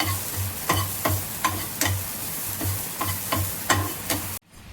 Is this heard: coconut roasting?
yes